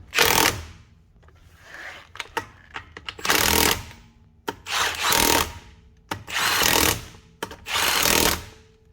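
A power tool whirs in five short, loud bursts with brief pauses between them as it tightens the wheel on a 2003 Subaru Forester during a CV axle job.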